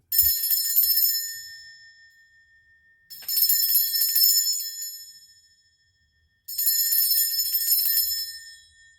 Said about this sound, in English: I'm going to be cleansing this space by ringing my lovely Tibetan bell.